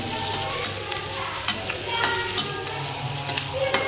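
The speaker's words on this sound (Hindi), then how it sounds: "देखिए प्याज और काजू इसमें फ्राई कर रहे हैं" Onions and cashews frying in a pan give a steady, close sizzle, broken by sharp pops and crackles every half second or so, with no voices.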